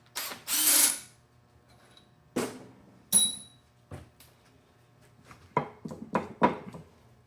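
Ratchet wrench clicking as bolts come out of a Chevrolet 350 engine in a garage, with several separate bursts of close, sharp ratcheting spread across the stretch, some quick and clustered near the end.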